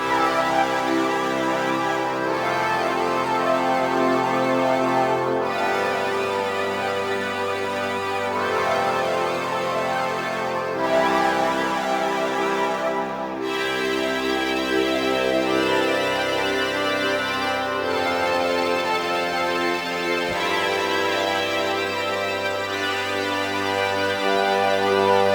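A keygroup instrument on the Akai Force built from self-recorded vocal samples plays sustained, layered harmonic tones with chord changes every few seconds, steady and full for about twenty-five seconds with no speech.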